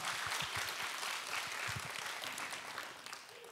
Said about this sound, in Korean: 다시 한번 하나님께 영광의 박수를 올려드리겠습니다.